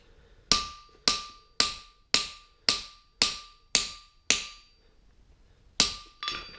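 A hammer drives a fuller into a steel straight-bar horseshoe on an anvil. About nine sharp, ringing metallic blows land at an even pace with a short pause near the end, each decaying quickly in a quiet room.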